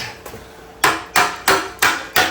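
Hammer wrench strikes ring out sharply, five evenly spaced metal blows after a faint tap, each loud and close with a quick decay.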